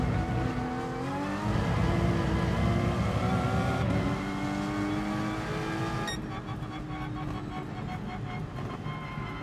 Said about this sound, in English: Wow, the car is just sliding.